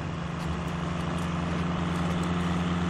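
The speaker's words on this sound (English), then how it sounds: "Listen to that 12 valve purr." A first-generation Cummins 12-valve diesel in a flatbed truck in the SnowRunner game, working through deep snow with a steady, loud low rumble and constant drone throughout, with no talk over it.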